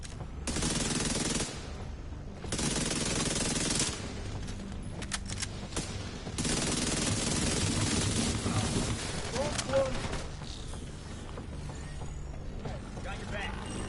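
Submachine gun fire in The Division 2 shooter game, several long rapid bursts of dense automatic fire with short gaps, followed by quieter mechanical reload clicks, while a player talks over it.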